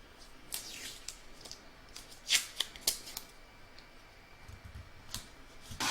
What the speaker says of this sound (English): I'm just going to put a little bit of tape there just to hold it in place